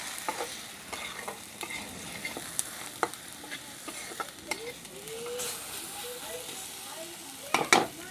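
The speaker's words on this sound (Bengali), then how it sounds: "এখানে দিলাম আমি লঙ্কার গুঁড়ো মশলাটাকে পেঁয়াজের সাথে মিশিয়ে নেব" Chili powder is stirred into onions frying in a pan, producing a steady sizzle with repeated scraping strokes and light clicks of the spatula, close and fairly quiet.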